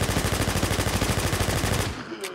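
An MP7 submachine gun firing in the survival shooter Infestation, a loud fast continuous rattle of evenly spaced shots for about two seconds before cutting off abruptly.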